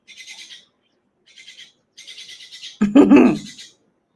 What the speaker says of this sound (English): Is it a bird fight?